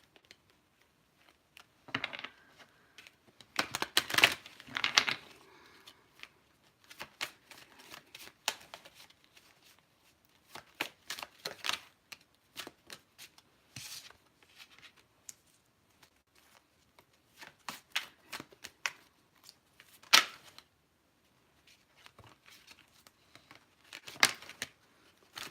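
Tarot cards being shuffled by hand, up close, in repeated riffling and slapping bursts separated by short pauses, crisp papery flutters with occasional sharper snaps, and no talking.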